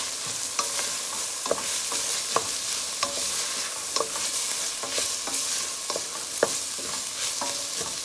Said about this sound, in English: We're gonna mix this up.